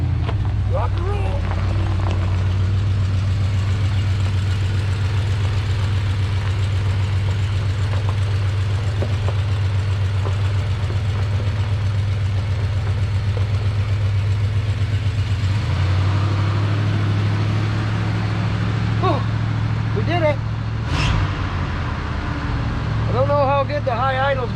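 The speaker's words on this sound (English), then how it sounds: "The high idle is going to come off" A 1970 Dodge D-100 pickup engine runs steadily at high idle, a loud continuous low rumble throughout, with brief voices and clatter near the end.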